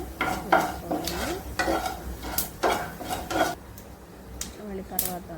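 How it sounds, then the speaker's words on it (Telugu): Urad dal, cumin and mustard seeds temper in a hot kadai with a steady sizzle, while a spoon stirs and scrapes against the pan in repeated clattering strokes throughout. "స్టవ్ మీద కడాయి పెట్టుకుని అందులో మినపప్పు, జీలకర్ర, ఆవాలు వేసుకొని వేసుకోవాలండి"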